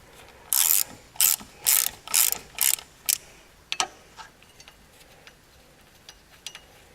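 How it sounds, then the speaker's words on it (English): A ratchet clicks in a burst of about six loud, quick ratcheting strokes as size 4 Allen head bolts are undone on the front brake rotor of a 2003 Citroen Xsara Picasso, followed by fainter metallic taps and clinks. "We can remove the rotor now by undoing these Allen heads."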